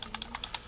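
A Page Down key on a computer keyboard is tapped rapidly several times, giving a quick run of crisp, close plastic clicks in under a second.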